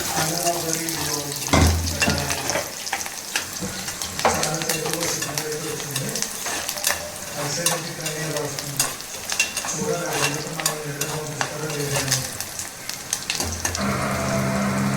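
Dried red chillies are dropped into hot oil as a tempering for dal, giving a crackling sizzle with stirring clatter and bursts of sound throughout, close and fairly loud.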